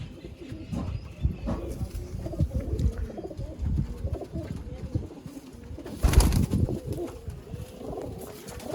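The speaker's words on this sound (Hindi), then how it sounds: "इस कबूतर का फैसल भाई शौक करवाएं।" Pigeons coo repeatedly close by, low throaty burbling calls overlapping in an irregular rhythm, with rustling and a brief louder burst partway through.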